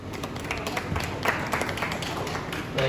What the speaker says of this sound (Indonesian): Tepuk tangan buat Pak Redemptus.